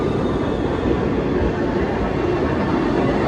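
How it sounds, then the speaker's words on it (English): Train pulling into a station on the way to the Jungfrau near Lauterbrunnen, a loud continuous rail rumble and rolling noise, close and steady, with no talk over it. "Here comes our train."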